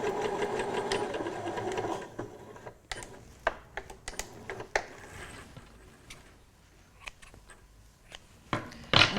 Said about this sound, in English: I can just stitch that last bit of tail that's not anchored at all down to the seam allowance only